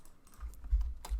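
Keys tapped on a computer keyboard during coding, a handful of quick, soft clicks with low thumps at an uneven rhythm, close and fairly quiet with no talking.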